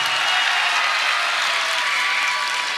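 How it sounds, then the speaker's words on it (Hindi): Audience applause for teachers at a school function, steady dense clapping from a large crowd sustained throughout without a break. "सब मिलकर एक बार टीचर के लिए तालियां बजाओ"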